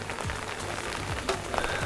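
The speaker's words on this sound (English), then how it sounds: "This is our first rain since we got the rain barrel installed." Rain falls steadily on surfaces beside a large 1500-gallon backyard rain barrel, a dense, close patter of drops with a few sharper taps and no voices.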